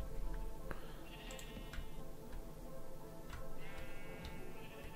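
Two wavering sheep bleats from a Minecraft game, soft and somewhat distant, over a steady ticking and faint background noise.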